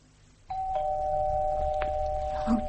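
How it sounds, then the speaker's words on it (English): A doorbell in a British home rings once as a steady electronic chime tone that sustains clearly for about two seconds, close and fairly loud against quiet room ambience. "You can't live in fear of the doorbell for the rest of your life."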